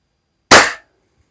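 A single sharp air gun shot, close and loud, fired at protective military underwear, a sudden crack with a brief decaying tail and then silence.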